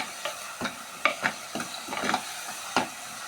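A spoon stirs and scoops fish curry ingredients in a pan, making a handful of light, close scraping strokes at an irregular pace over a faint sizzle, with no voices.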